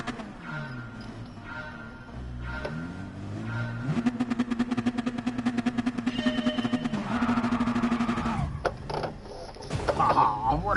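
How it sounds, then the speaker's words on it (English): A car engine in the racing game Gran Turismo Sport drones and revs with shifting pitch, steady and fairly loud, with clicking and mechanical noises layered over it. "can you hear the engine now?"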